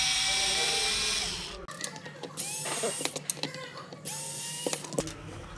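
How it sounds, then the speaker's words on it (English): Screws being backed out of the rear cover of a multimeter with a power driver, giving a steady whirring drone followed by several short bursts of motorized spinning with brief pauses between them, close and fairly loud. "So now you can go ahead and take these screws out."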